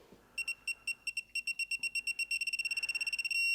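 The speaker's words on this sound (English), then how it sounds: "It starts beeping at you when you start getting close." Electronic beeping from a digital torque wrench while setting up a differential, starting as spaced single beeps as it nears the target torque, speeding into rapid pulses, then merging into one continuous tone at the end.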